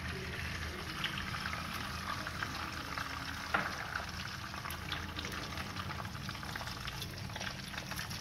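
Eggs sizzling in hot oil in a pan, a steady soft crackling hiss with faint pops throughout, no talking.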